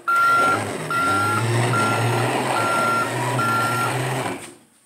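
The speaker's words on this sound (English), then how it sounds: "And it does the backup beeping sound, which is really cool." A toy Ford Mustang car gives five evenly spaced electronic reversing beeps over a steady motor whir, close by, before the noise cuts off.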